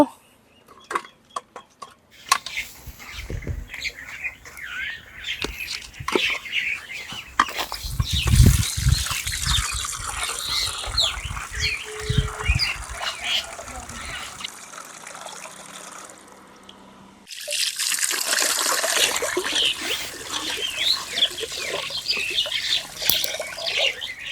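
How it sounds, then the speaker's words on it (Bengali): Water trickles and splashes steadily while local magur catfish are rinsed clean in a home kitchen, with handling clatter and a brief pause in the flow partway through. "মাছ খুব সুন্দর করে ধুয়ে নিছি"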